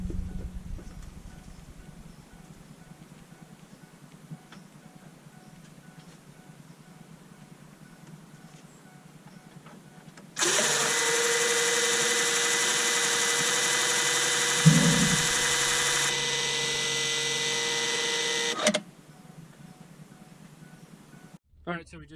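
A throttle valve on a 2004 Ford F250 with the 6.0 Power Stroke diesel cycles as the ignition is switched on, giving a steady buzzing electric motor whir that holds for several seconds with a brief louder clunk partway through.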